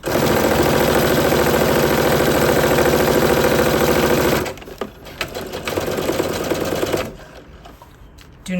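A sewing machine stitches a dart in a fast, loud, even mechanical whir for several seconds, then stops, leaving quieter handling clatter before a brief restart at the end.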